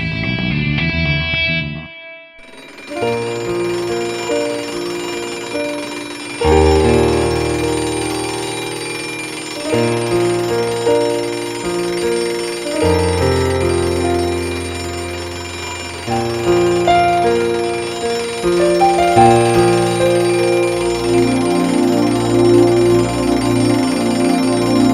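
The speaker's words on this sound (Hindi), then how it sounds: "बच्चों वाला अलार्म किसने रखा है हमें?" A children's alarm clock plays a bright, bell-like melodic tune, note after note, loud and steady for about twenty-five seconds after a brief quiet opening, with no voices over it.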